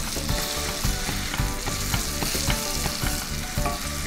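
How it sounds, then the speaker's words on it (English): Tomatoes being mashed with the back of a spoon in a frying pan for chicken biryani, a steady loud sizzle with repeated soft scraping and pressing strokes close by, no talking. "Using the back of the spoon, start mashing your tomatoes"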